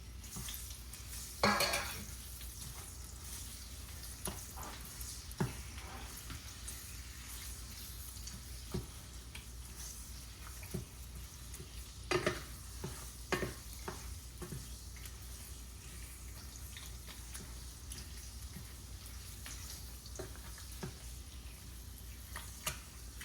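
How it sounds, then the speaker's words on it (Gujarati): Deseeded dates roasting in ghee give a faint steady sizzle, broken by occasional scattered clinks and scrapes of stirring in the pan. "હવે આપણે આ ખજૂર જે લીધું છે, બિયા કાઢીને મેં મૂક્યું છે, એને આપણે ઘીમાં શેકીશું"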